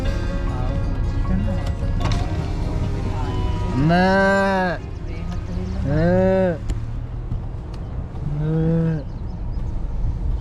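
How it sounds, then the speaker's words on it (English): Cattle crossing a foggy road in Dhofar, Oman, low three drawn-out moos spaced a couple of seconds apart over steady road and vehicle noise. "There are some cows crossing the road."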